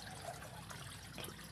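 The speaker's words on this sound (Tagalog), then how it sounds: "nagpapasok po tayo ng tubig kasi yun nga, yun, malaki yung kati ng tubig ngayon" Water flowing steadily into a crab hatchery pond at high tide, a continuous soft trickling rush with no voices, even and moderately quiet throughout.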